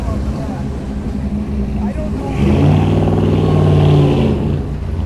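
Classic car with a classic engine cruising past at a 1950s-themed car show, its engine rumble swelling louder as it passes close, with people chatting in the background.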